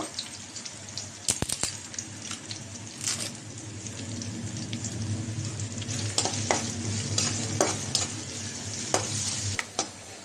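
Onions and a couple of bay leaves fry in oil in a pan, giving a steady close sizzle broken by sharp scraping clicks of stirring, with no talking.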